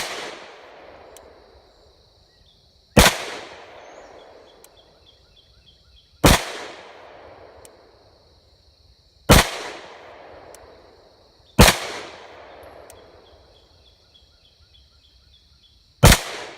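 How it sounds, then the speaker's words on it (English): Six sharp, loud CZ52 pistol shots firing 7.62x25 rounds, spaced a few seconds apart, each with a short decaying echo outdoors and quiet between shots. "It's a kind of a strange trigger compared to what I'm used to in one of these CZ52s."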